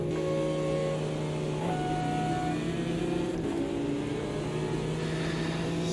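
A GT4 race car engine at Monza in the racing game Automobilista 2, a steady droning engine tone holding near constant pitch with a small gear-change shift, moderately loud and alone.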